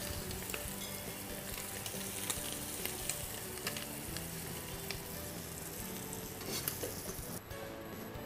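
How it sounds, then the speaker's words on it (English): Asparagus tossed with butter and seasoning sizzles steadily in a pan during a culinary masterclass, a continuous close frying hiss with small crackles and a brief clatter near the end. "Just toss the asparagus with a little butter,"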